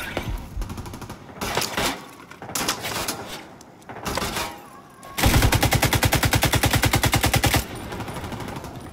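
Gunfire in The Division 2: scattered single shots and short bursts at first, then a long loud sustained burst of fast automatic fire with a regular rhythm, close and dominant, ending in quieter shots.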